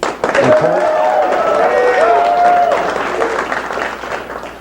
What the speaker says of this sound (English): We can probably give that a nice big round of applause.